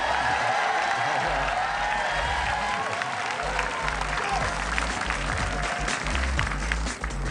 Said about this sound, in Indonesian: Dan mari berikan tepuk tangan untuk pembawa acara kita, Christian Sugiono.